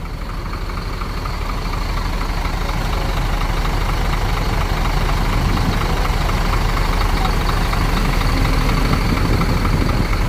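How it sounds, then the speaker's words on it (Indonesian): A Scania bus engine runs steadily with a deep, continuous idling rumble, loud and close throughout with no break. "coba dengerin perbedaan 1626 sama mesin Scania"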